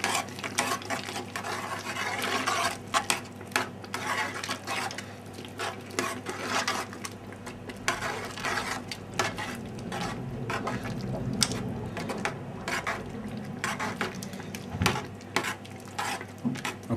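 Chopped parsley stirred into a tomato pasta sauce in a pan, giving a steady soft scraping and gentle sizzle with light clinks of utensil on pan throughout, no voices.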